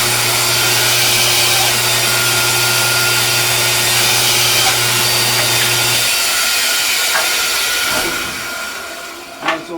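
A bandsaw cuts a wooden snowman ornament blank with a loud, steady motor whine and hum. The whine cuts off about two-thirds of the way through, then the noise winds down into quieter shop sounds.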